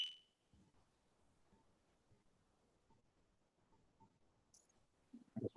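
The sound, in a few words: fire alarm beeping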